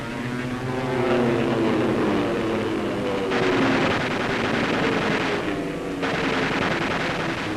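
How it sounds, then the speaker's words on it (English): A World War II Spitfire and Messerschmitt fight an air duel, with loud, steady propeller engine drone and changing pitch as the planes pass, while gunfire bursts break in, alone with no talk. "pictures from captured German film of an actual air duel between a Spitfire and a Messerschmitt tell their own story"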